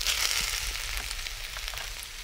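Pre-cooked Blue Dragon egg noodles hit a hot wok with sea trout, giving a steady, close crackling sizzle that holds evenly for a couple of seconds with no talking.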